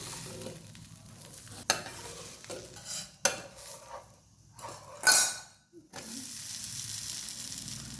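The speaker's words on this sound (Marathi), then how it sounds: "आता परतून घ्यायचं व्यवस्थित भाजल्यावरती" A dosa roasts on a hot pan and is turned, with steady close sizzling, a few sharp metal clinks and scrapes of the spatula, and a brief louder hiss partway through.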